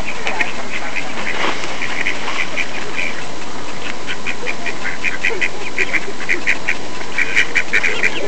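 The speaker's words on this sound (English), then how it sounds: "Look at the ducks walking with us on our little" Ducks walking alongside people in Brady Park, Massapequa, New York give repeated quick quacks and chatter over a steady rumbling background, fairly close throughout.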